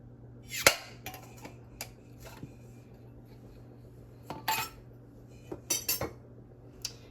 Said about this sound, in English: Remember, I told you about this nifty little opener. Doesn't dent your lids.